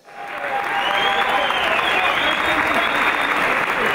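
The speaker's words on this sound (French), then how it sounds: "Et on peut applaudir Denis Daon sous un tonnerre d'applaudissements, mesdames et messieurs, s'il vous plaît." A large crowd at a fitness night event bursts into loud, sustained applause with cheering voices mixed in, rising quickly and staying dense and steady throughout.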